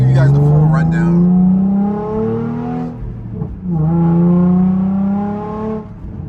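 A 2007 car with a dual-tone exhaust revs twice, each rev rising and falling in pitch with a brief dip between, loud and close, with no talk over it.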